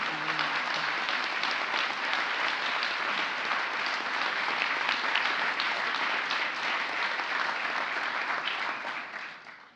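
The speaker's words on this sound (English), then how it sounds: "Please join me in giving a big round of applause to my fellow awardees of the International Women of Courage." Sustained applause for the International Women of Courage awardees fills the hall, a steady dense clatter of many hands held at even loudness for nearly ten seconds before tapering off at the end.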